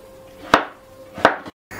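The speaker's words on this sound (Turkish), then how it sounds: "Havuçları da birer parmak kalınlığında doğruyoruz." Two sharp knife chops through carrots on a cutting board, about three-quarters of a second apart, close and fairly loud with quiet between them.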